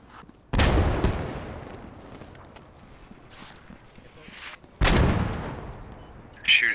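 Video game gunfire in a squad-based shooter: two loud, booming bursts of shots a few seconds apart over a steady background rumble, with a sharp crack at the very end.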